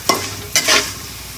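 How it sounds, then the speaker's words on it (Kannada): Tamarind juice tipped into garlic frying in a pan, two sharp splashes each setting off a short burst of bright sizzling, close and loud, with no talking. "ಹುಣಸೆಹಣ್ಣೆಲ್ಲನೂ ಹಾಕಿದ್ದೀನಿ ಇಲ್ಲಿಗೆ"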